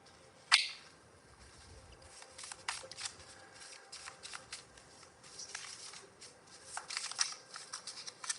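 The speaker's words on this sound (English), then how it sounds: "Shuffle here and see what else comes through." Tarot cards being shuffled close by: soft riffling and flicking bursts with a sharp snap near the start, then irregular light card rustles continuing quietly.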